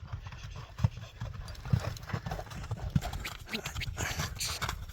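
A horse for sale moves on the ground, its hooves giving uneven thuds and clip-clop beats at close range, with outdoor background noise and brief voices.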